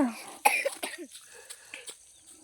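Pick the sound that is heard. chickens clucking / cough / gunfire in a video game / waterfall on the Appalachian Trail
cough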